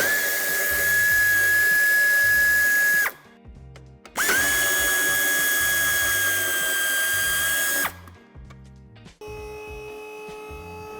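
Power drill or driver removing the front bumper screws on both sides of a Jeep Compass, two sustained loud whirring runs of about three seconds each with a short stop between, then a quieter tool hum.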